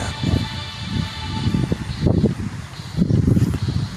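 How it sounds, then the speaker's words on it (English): Wind buffets the microphone in low, rumbling gusts that rise and fall unevenly over a few seconds. "So windy."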